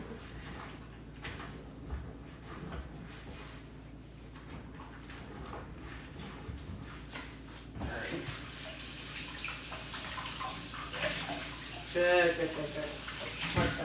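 Water runs from a tap into a kitchen sink, softer at first and then a fuller, louder gush with some clattering of dishes, while a person speaks briefly.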